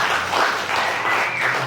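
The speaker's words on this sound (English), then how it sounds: "Round of applause for Anthony." An audience applauds a speaker at an environmental justice speaker series, a dense, steady wash of many hands clapping at an even level throughout, with no voices standing out.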